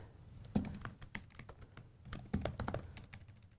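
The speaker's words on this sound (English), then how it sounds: "Help if I could type." Quiet, close typing on a computer keyboard while coding in Python, a loose run of irregular key clicks with a couple of heavier strokes and short pauses between bursts.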